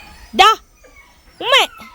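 A puppy gives two high, wavering whimpering yelps about a second apart, close and clear, with quiet pauses between.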